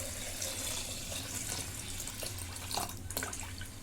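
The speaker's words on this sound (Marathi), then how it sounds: "आता याच्यामध्ये पाणी ओतून घेते" Water is poured into a pot of rice and mixed dal with turmeric and asafoetida for khichdi, making a steady, faint rushing splash that lasts the whole stretch with no speech.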